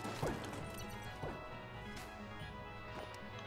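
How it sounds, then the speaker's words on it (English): An explosion in the video game Enter the Gungeon, a sharp crashing blast that recurs a few times over a steady wash of game music and effects. "See, that's an explosion."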